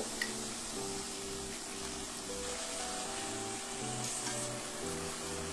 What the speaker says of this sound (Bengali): পনির দেওয়ার পর আস্তে আস্তে নাড়িয়ে মশলার সাথে মাখিয়ে নেব।